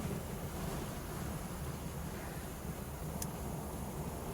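A steady, loud rushing roar of wind through the open window of a moving 1975 Dodge Charger police car fills the whole stretch without a break.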